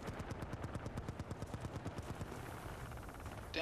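Rapid automatic gunfire crackles in Battlefield Bad Company 2 multiplayer, a steady run of close, evenly spaced shots for several seconds before a brief louder burst at the end.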